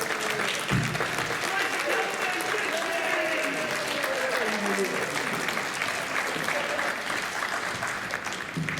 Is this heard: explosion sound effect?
no